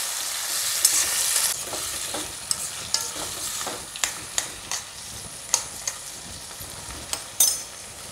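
Salted, juicy lemons frying in a pan for pickle, giving a continuous sizzle broken by a series of sharp spoon clicks and scrapes against the pan, heard up close with no talking.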